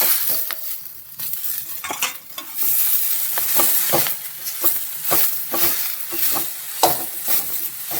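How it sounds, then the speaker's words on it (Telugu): Green chillies, onion and young tamarind leaves fry and sizzle in hot oil for a chiguru chintaaku roti pachadi, with a steady crackle broken by repeated scrapes and clinks of a spoon stirring the pan, with no voices. "పచ్చిమిర్చి ఉల్లిపాయలు నూనెలో వేయించుకోవాలి దోరగా ఇప్పుడు చింతాకు వేసుకుందాం"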